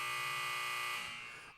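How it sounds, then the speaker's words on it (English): A buzzer sound effect blares in one loud, steady electronic tone for about a second, then trails off into a brief decaying tail. "where the buzzer, where the buzzer,"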